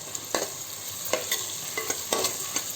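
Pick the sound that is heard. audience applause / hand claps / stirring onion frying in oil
stirring onion frying in oil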